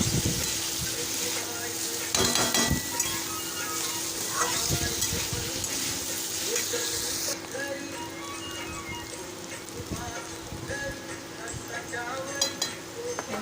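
A spoon scrapes and stirs through a radish vegetable dish sizzling in a pan after turmeric is added, with steady frying hiss, clinks against the pan, and occasional talk.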